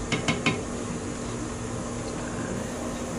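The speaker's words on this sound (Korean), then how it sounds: "끓기 시작하면 그때 이제 면을 넣어줘요" Udon noodles go into a boiling pot for a cream pollack roe udon in a cooking class, with a few quick metallic clinks at the start, then a steady background hum.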